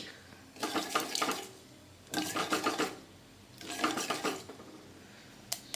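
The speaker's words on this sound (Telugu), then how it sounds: "సో ఇలా ఆవాలు చిట్టుపట్లాడితే ఫ్లేవర్ కరెక్ట్గా వస్తుంది." Mustard seeds spluttering and popping in hot oil while tempering for miriyala rasam, three bursts of dense crackling separated by short pauses, close and fairly quiet, with no talk.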